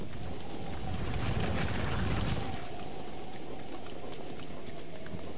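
Rain falls steadily in the open world of Zelda: Breath of the Wild on Nintendo Switch, near the Zora region, making a constant hiss and patter close up with no talk over it.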